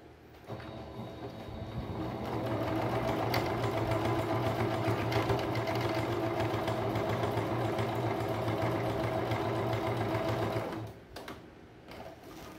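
A sewing machine stitches a denim patchwork rug made from old jeans, running in one steady, close mechanical whir for about nine seconds before stopping.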